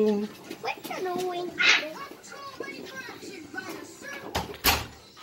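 A Novotel hotel room door is opened and held during a staycation; a few sharp clicks and knocks come near the end, under steady excited chatter.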